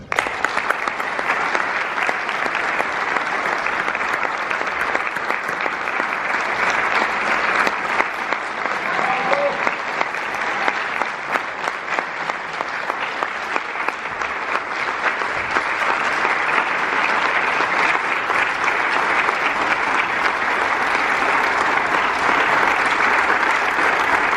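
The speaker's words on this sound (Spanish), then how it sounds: "Un gran aplauso para Luis Poirot" A large audience applauds at a cultural event honoring photographer Luis Poirot, with sustained, dense clapping that holds steady and swells slightly toward the end, a voice faintly audible beneath it.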